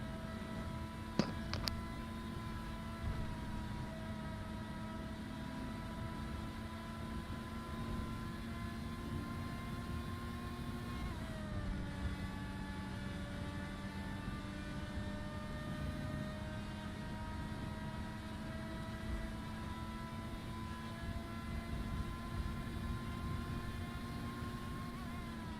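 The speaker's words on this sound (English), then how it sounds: "Just let you guys enjoy the roar of the engine" Vehicle engine in a video game, a continuous steady drone with sustained harmonic tones that dip briefly in pitch midway, running alone for a long stretch.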